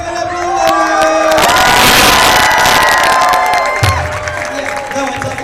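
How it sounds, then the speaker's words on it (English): A large crowd at TwitchCon cheers and whoops loudly for a contest winner, a dense sustained roar with shouting voices that swells and then eases off toward the end. "Give it up for the winner!"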